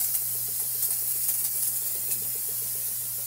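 A handheld disinfection spray gun sprays fog indoors with a steady, close, breathy hiss over a low constant motor hum.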